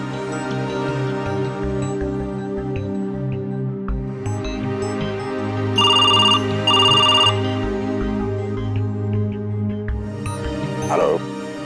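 A telephone rings twice in quick succession midway through, clear and fairly loud over steady background music in a Hindi TV drama scene, before a call to a police officer.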